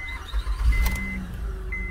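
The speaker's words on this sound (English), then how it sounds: "now we start her up with fresh oil and no coolant" A Honda Odyssey's engine cranks briefly and catches into a low, steady idle right after an oil change, heard close up over about two seconds.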